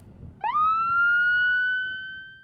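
A Cascade County Sheriff's patrol car siren gives a single rising wail that climbs quickly and then holds a loud, steady tone, close by and alone.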